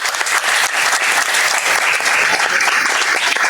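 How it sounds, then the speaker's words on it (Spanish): Loud, dense audience applause at a Spanish-language science talk on climate change, steady clapping from a crowd filling the whole stretch without a break. "Un aplauso, por favor, para Javier."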